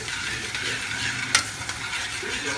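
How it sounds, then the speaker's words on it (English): Pink beans being stirred into yellow rice in a pot, a steady close scraping and shuffling with a soft sizzle underneath and one brief sharper clink midway. "I'm going to start putting my beans. Okay, and mix it around."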